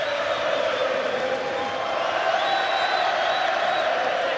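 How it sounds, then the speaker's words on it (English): Boxing arena crowd of Conlan's Belfast fans cheering and roaring to lift their fighter, a dense continuous wall of crowd noise with whoops and shouts, steady and loud throughout. "Belfast's faithful, Conlan's fans trying to raise the man."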